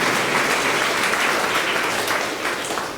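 A crowd at a Malayalam charismatic church retreat claps steadily in thanks, dense and loud, sustained for the whole stretch with no voices over it.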